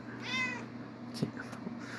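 Cat giving one short, clear meow up close over a steady background hum, followed by a few faint rustles and taps.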